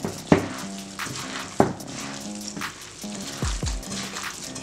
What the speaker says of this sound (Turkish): Ve üzerine ılık suyumu döküyorum ki pirinçlerim biraz daha kabarabilsin ve hep beraber karıştırmaya başlıyorum.